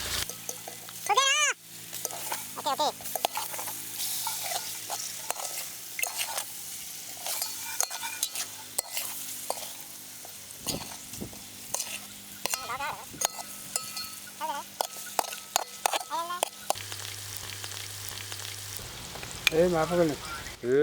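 Eggs fry in masala in a pan over a village cooking fire, a steady soft sizzle broken by scrapes and stirring, while someone talks intermittently over the cooking.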